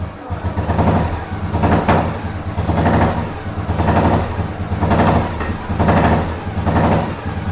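A 1991 Royal Enfield Deluxe motorcycle engine runs loudly nearby, its throttle rising and falling in steady rhythmic revs with a thumping exhaust.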